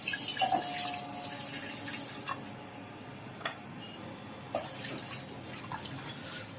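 Water poured into a cooking pot for an oats breakfast, about one and a half cups, with trickling and dripping sounds that are loudest at the start and then fade into quieter drips.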